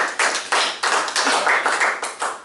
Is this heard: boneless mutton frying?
no